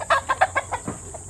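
Hens from a Philippine breeding flock clucking in a close run of about six short, evenly spaced calls, fading slightly toward the end, with no talk.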